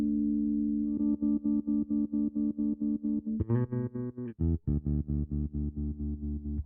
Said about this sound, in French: une reverb avec un trémolo